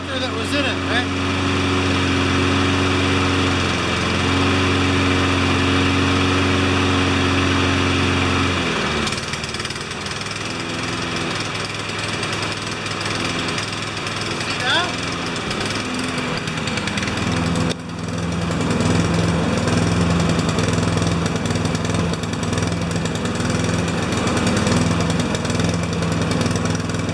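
A Honda HRR216 lawn mower engine drones steadily nearby, its pitch shifting and roughening partway through as the motor labors, continuing loud throughout.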